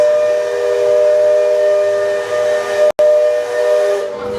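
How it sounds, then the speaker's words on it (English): A steam train whistle at Magic Kingdom, Walt Disney World, Florida, blows loudly and continuously, with a brief break near the end before resuming. "the steam whistle in the background, and the big brass bell going."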